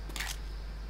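Brief mechanical clack and click of a weapon being reloaded in the zombie shooter Left 4 Dead, a single short metallic burst over a low steady hum.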